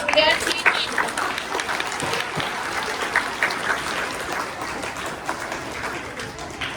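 Students in a classroom quiz clap together, a steady, fairly loud patter of many hands lasting several seconds, with a few children's voices mixed in.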